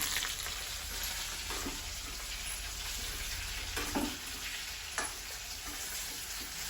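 Cumin and coriander seeds, nearly scorched, dry-roast in a pan with a constant low crackling sizzle, broken by a few sharper spatula scrapes as they are stirred.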